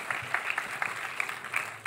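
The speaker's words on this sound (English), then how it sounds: "Okay, round of applause." Audience applause after a startup presentation is scattered, fairly faint clapping with distinct individual claps. It continues steadily for about two seconds with no voices over it.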